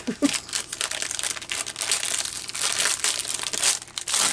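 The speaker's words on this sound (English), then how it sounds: "We just take our handy dandy knife is what we're going to do, and we don't cut into anything but the wrapping" A knife slits plastic wrapping, making close, busy crinkling and rustling that runs continuously, with handling noise throughout.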